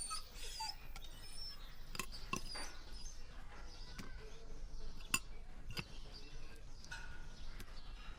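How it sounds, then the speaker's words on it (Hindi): A pet dog whimpers faintly in a quiet room, with a few soft whines and small sharp knocks scattered over several seconds and no clear talking. "नया कुत्ता है, इंपोर्टेड."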